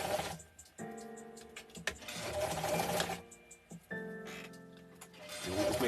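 A BSN sewing machine stitches along a seam in short bursts of rapid, even whirring, stopping and restarting several times with quiet pauses between runs, close and clear.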